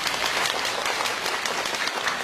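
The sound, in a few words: audience applause welcoming the artists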